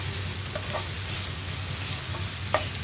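Cauliflower and carrot thoran stir-fried with turmeric: a continuous close sizzle from the pan, with a few light spoon scrapes and taps as the vegetables are stirred.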